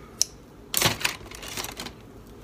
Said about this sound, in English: I cut off a sheet of cling wrap.